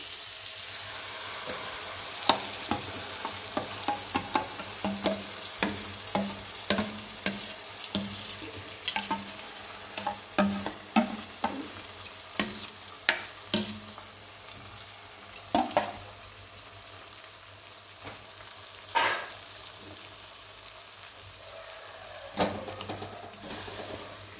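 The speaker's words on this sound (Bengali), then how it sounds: "এটা এইভাবে নাড়তে থাকবেন যতক্ষণ না জিনিসটা হয়ে আসছে" Vegetable paste for Mumbai street-style pav bhaji sizzles steadily in a frying pan, with repeated scraping stirs and spatula clacks coming close and fairly loud over the continuous frying hiss; no one speaks.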